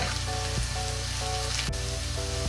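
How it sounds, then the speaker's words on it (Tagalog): Garlic frying in oil for ginataang ulang while being stirred, a dense steady sizzle close by with one sharp utensil tap, no speech over it and a faint repeating tonal hum underneath. "Habang hinihintay po natin na medyo mag-golden brown itong ating bawang ay patuloy lang po ang paghalo."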